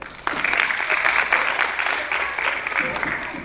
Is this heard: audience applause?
yes